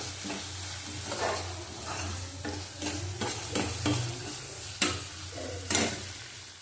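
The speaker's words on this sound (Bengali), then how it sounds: "ভালো করে কষিয়ে নিতে হবে।" Prawns with tomato paste sizzle in a hot pan while a spoon stirs them, producing steady frying hiss punctuated by repeated scraping strokes and a couple of sharper clinks against the pan, close by.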